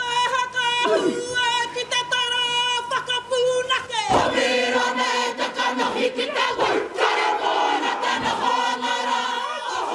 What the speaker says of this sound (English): About 100 people gathered at the Gaiety Theatre in the centre of town to cheer the group on